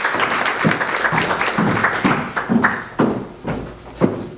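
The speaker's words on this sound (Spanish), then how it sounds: "Un aplauso, por favor." Audience at a conference inauguration in Mexico applauding steadily for several seconds, a moderately loud, even patter of many hands with a few heavier thumps, fading toward the end.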